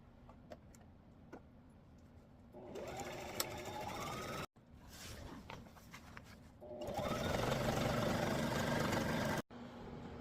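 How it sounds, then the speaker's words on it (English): A sewing machine stitches a 1/4 inch side seam down a curtain made of printed fabric, running in two long loud bursts, with quieter handling and ticking in between. "We're going to stitch down the whole side of the curtain using a 1/4 inch seam from this side of the fabric"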